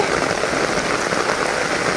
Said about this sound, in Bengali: এত জোরে বৃষ্টি হচ্ছে মুসলধারে